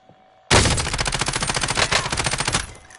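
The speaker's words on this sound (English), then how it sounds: "Oh, he shot me." A sudden burst of close automatic fire from a PS4 shooter, a rapid rhythmic stream of shots lasting about two seconds before cutting off abruptly.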